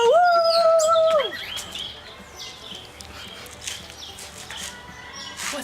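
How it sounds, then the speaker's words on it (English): Outdoors among trees and foliage, a bird gives a clear whistled call at the start, followed by fainter scattered chirps over soft rustling and footsteps. "A bird?"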